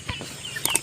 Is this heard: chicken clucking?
yes